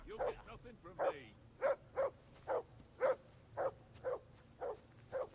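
Dog barking in the Kingdom Come 2 video game, a steady series of about ten loud, evenly spaced barks close by, with a low background hum and some speech-like sound at the start.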